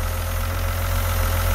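Engine of a Thomas Saf-T-Liner C2 school bus in the Rigs of Rods game, a steady, loud low diesel hum with a pulsing throb, held at an even pitch without talking.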